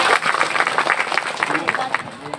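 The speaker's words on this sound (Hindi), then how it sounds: "जोरदार ताली से स्वागत करा।" Crowd applause greets a speaker at a two-day traditional tribal social, religious and judicial gathering at Gety Tea Estate, Nagarkata, West Bengal: a fairly loud, steady patter of many hands clapping throughout.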